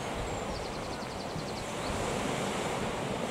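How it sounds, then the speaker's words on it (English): Cold wind gusts at a beach, a loud, steady roar of wind noise buffeting the microphone over distant surf, with no talking. "It's that cold wind blowing."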